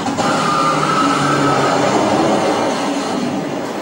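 A hydraulic roller coaster train, driven by 32 hydraulic motors, launches from 0 to 120 mph with a loud, sustained rushing roar that holds steady throughout, with no voices.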